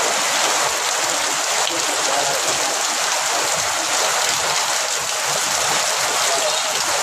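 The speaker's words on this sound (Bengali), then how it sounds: "তো একটু বৃষ্টি কমছে, কিন্তু প্রচুর বৃষ্টি হচ্ছে আর কি।" Heavy rain falls in Rajbari, making a loud, even hiss of drops that holds steady for the whole stretch with no pauses.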